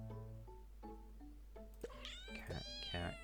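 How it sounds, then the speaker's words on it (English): A cat meows in the video game Solnest & Silktrails 2, a run of several short, close, clear mews rising into a longer plaintive cry. "Cat, cat, cat."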